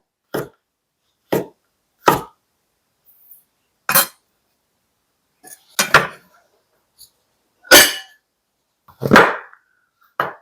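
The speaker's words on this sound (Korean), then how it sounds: "표고 한번 썰어 볼게요" A knife cuts through shiitake mushrooms on a cutting board, making about nine sharp, separate chops at an uneven pace, loud and close, with near silence between strokes.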